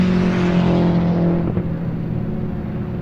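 Race car at speed on a road course during a time attack session, a steady loud engine drone with a slight dip in pitch partway through as it carries on past, no talk.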